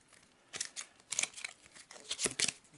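A deck of green playing cards gets a quick riffle shuffle and cut during a board game, giving several bursts of crisp flicking and crackling in close succession.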